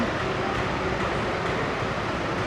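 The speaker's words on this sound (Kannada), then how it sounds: "ನಮ್ಮ ಟ್ರೈನ್ ನೋಡಿ one six five nine to Hampi express" Hampi Express train at an Indian Railways station, a steady broadband rumble of rail and station noise that holds evenly throughout without distinct events.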